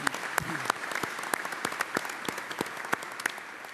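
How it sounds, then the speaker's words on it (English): Sparse, scattered applause from an audience at a high-speed rail event in Illinois, individual claps standing out as a thin, moderately quiet patter. "Let's give him a round of applause."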